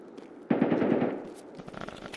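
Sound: gunfire in a video game

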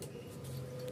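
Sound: HP LaserJet 1020 printer printing a test page

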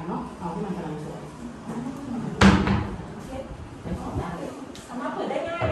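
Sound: cupboard or drawer being opened and closed

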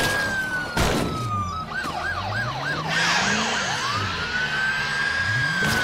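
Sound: police car siren passing in video game State of Decay 2

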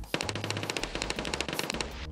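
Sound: Gluhar gunfire in Escape from Tarkov video game

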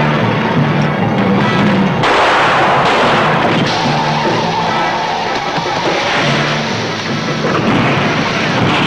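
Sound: fireworks explosions in film trailer

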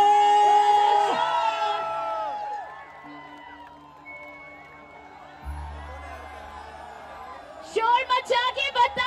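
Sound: crowd cheering and applauding at live event

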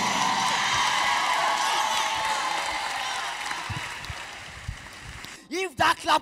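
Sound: audience clapping in a church

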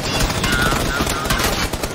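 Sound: gunfire in a video game

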